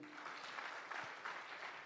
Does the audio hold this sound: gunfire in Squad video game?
no